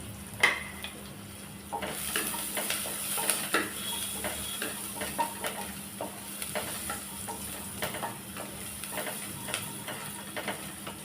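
Ingredients for ragi soup sauté in a pan under a low, steady sizzle, with repeated scraping and tapping strokes of a spatula against the metal at an uneven rhythm.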